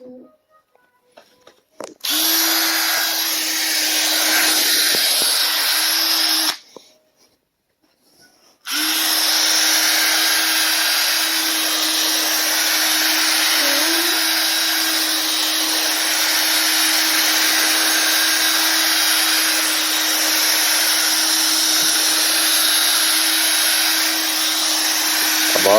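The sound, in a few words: Bissell carpet cleaner running on a rug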